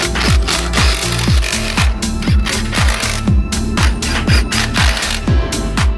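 A power tool tightens four bolts on a Land Rover Defender during a rebuild, giving a loud, fast mechanical rattle broken into repeated short bursts with brief winding-down tails, continuous throughout with no talking.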